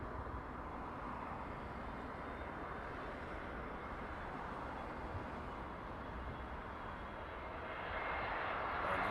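Aer Lingus airliner arriving at London Heathrow, a steady, fairly faint jet engine rumble heard from a distance that grows slightly louder near the end.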